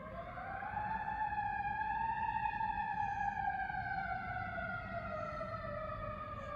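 A fire engine siren wails at night, its layered tones rising and falling slowly and steadily, moderately distant and heard alone without talk.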